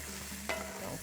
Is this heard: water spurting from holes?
no